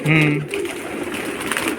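Pigeon cooing nearby, a short low coo at the start followed by softer murmuring and faint background voices.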